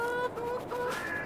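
Brief, close bursts of hen clucking from chickens in the Farming Simulator 22 video game, repeated calls at moderate loudness with no talk.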